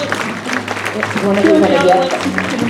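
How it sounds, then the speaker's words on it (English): Audience at an evening community event applauds steadily and loudly throughout, with a voice speaking over the clapping. "We applaud you, clap your hands, stomp your feet"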